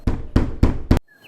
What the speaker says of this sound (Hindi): उनके घर के दरवाजे पर दस्तक होती है।